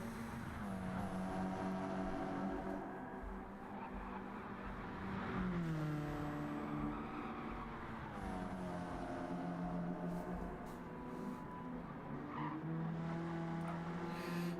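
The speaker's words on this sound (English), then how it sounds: "we can hear a car just behind Happy Pappy here." Nissan Silvia race cars in a touring championship racing video game drone close behind one another, engines rising and falling through gear shifts with intermittent tire squeal, steady and fairly loud throughout.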